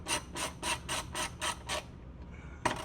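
A ratchet wrench with an E12 Torx socket loosening a bolt on a car exhaust, seven quick evenly spaced ratcheting clicks up close, a short pause, then one more click.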